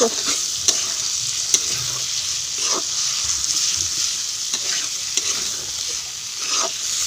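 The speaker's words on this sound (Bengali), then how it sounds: "খুব ভালো করে আমি কষিয়ে নেবো" Boiled, hand-shredded chicken stir-fried with onions in a pan, a steady bright sizzle punctuated by repeated scraping strokes of a spatula at irregular intervals, close and continuous.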